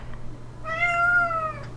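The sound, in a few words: black cat meowing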